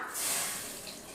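Water is poured into a pot of brinjal and broad bean sambar as it cooks, a brief soft splashing hiss with no voices.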